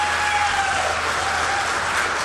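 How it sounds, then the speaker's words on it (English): Sustained audience applause at a Kamala Harris rally, a thick, even wash of many clapping hands that runs unbroken and fairly loud for a couple of seconds. "And the people just applaud."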